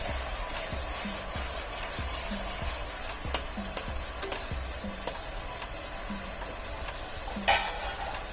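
A spoon scrapes and taps through a thick tomato and paneer curry in a pan, a slow rhythm of strokes roughly every second over a soft bubbling sizzle, with a few sharper knocks against the pan's side and no talking.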